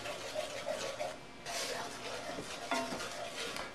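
A spoon stirs melted chocolate in a pot to smooth out lumps, giving soft, intermittent scraping and clinking strokes at close range, fairly quiet, with brief louder scrapes now and then.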